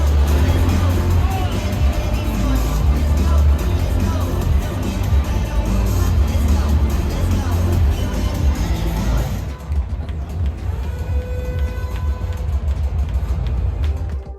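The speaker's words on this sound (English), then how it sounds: "The crowd is fired up and ready for Seattle Kraken hockey here at Climate Pledge Arena." A packed hockey crowd fills Climate Pledge Arena in Seattle before a Kraken game, a loud, dense roar of chatter and cheering that drops to a softer babble partway through.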